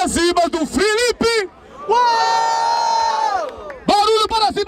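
At a rap battle, a trap special at Batalha da Aldeia in Barueri, the audience roars a long, sustained cheer for Felipe. A host's shouted voice comes just before and just after.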